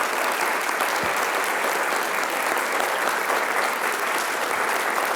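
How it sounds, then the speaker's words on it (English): Steady, dense audience applause fills the hall of an architecture conference honoring a guest, a continuous wash of many hands clapping at even loudness throughout with no voices standing out. "I never got applause before."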